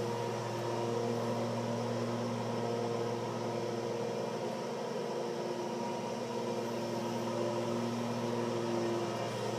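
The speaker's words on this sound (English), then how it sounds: "Sorry, excuse the lawnmower." Steady lawnmower engine droning outside at a distance, a constant faint mechanical hum with no talking over it.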